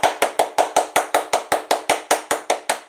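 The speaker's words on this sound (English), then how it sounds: "25 claps for George Washington Carver." A quick run of about fifteen sharp, evenly spaced claps for George Washington Carver, loud and close with a steady fast rhythm, heard alone.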